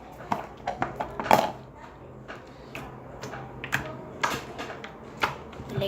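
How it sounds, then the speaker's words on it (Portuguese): Gloss slime stretched and pressed, giving a series of small, sharp clicks and pops in irregular bursts, quiet and close, with faint rustling between them. "Ela estica, faz clique."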